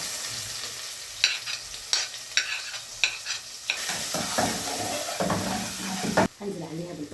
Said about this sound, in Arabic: طاسة على النار، هضيف معلقة كبيرة من الزيت، هنزل عليها بمعلقة من السمنة،